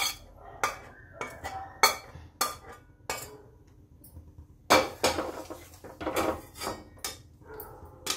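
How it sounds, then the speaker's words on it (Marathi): Sugar syrup is stirred into roasted besan flour in a pan for besan barfi, a sequence of sharp scraping and knocking strokes of a spoon against metal, irregular and close, with quiet gaps between strokes and no talking. "आणि आता ह्याला एकजीव पर्यंत आपल्याला हलवायचं."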